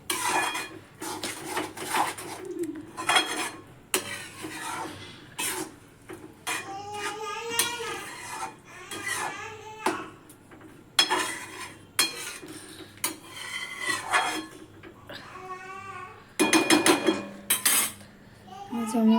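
A spoon scrapes and clanks against a pan while masala is stirred into a green corn curry, sharp metallic knocks in uneven bursts between quieter spells, with a voice speaking at times underneath.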